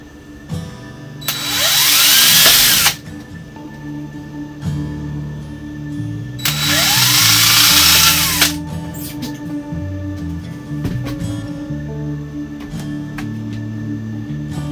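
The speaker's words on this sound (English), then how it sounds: "I'm going to drill a pilot hole" Power drill boring pilot holes for screws during an air-conditioning airflow modification on a Geo Pro 19FBS camper, two loud drilling runs of about two seconds each with the motor whine rising, over a steady background hum.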